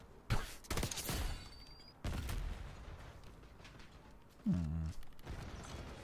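Gunfire rings out in a first-person shooter video game. There are several sharp, close bursts of shots separated by quieter gaps, with one tonal ringing sound among them.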